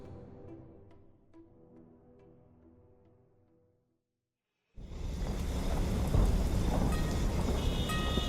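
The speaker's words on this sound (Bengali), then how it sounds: "আমরা যখন ট্রামে উঠলাম তখন বৃষ্টি মুষলধারে শুরু হয়েছে।" Heavy downpour with thunder used as an effect in a spoken story, a low rumbling roll fading to silence, then a loud, dense, close wash of pouring rain that continues to the end.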